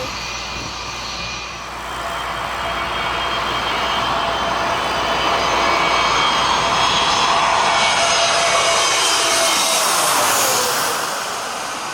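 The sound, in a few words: Donald Trump's jet plane flying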